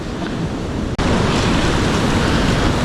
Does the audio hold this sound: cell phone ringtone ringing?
no